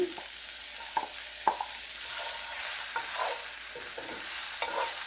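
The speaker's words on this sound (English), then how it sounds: "And we're just going to saute our onions." Onions sauté in oil in a skillet with a continuous sizzle, broken by a few sharp utensil knocks and scraping strokes as they are stirred.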